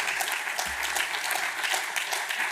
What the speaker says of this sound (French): on peut vous applaudir, Richard Loyen